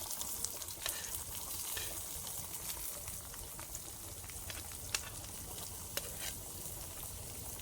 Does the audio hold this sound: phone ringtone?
no